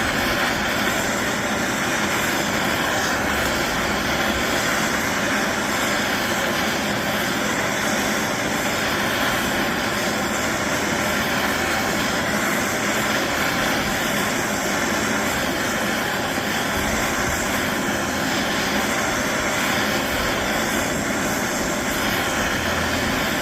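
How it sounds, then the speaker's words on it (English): A blowtorch firms a clay honey pot on a pottery wheel, a loud, steady roaring hiss that runs unbroken throughout. "So now I'll torch this off just to get it firm enough to get it off the wheel without distorting the shape"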